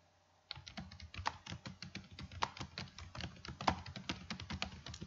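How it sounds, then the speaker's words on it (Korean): Typing on a computer keyboard while writing an email, a quick, uneven stream of close, crisp key clicks with a few heavier strokes, continuing steadily after a brief silence at the start. "편지 내용을 입력하고 다음 줄로 내려갈 때는 키보드 엔터키 눌러서 그 다음 문장을 입력해 주시면 됩니다"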